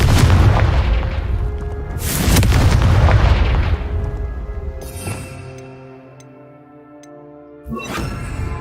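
Confringo blast spell fired in Hogwarts Legacy gameplay: two loud booming explosions with crackling debris, followed by fainter tonal magic effects and a final sharp burst, no talk over it.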